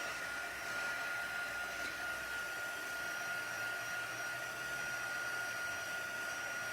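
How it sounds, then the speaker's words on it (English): A heat tool blows steadily to dry a watercolor pencil stamped card, a continuous close whooshing hum with an even whine that holds unbroken and alone throughout. "So I'm going to heat set this to dry it."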